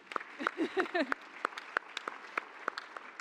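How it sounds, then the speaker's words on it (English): A small audience at a panel discussion during a future forum claps for a speaker being introduced. Sparse, separate hand claps ring out at close range, with a voice briefly heard between them. "Let's clap."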